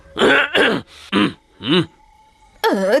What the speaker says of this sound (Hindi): खांसी है तो दवा खाओ।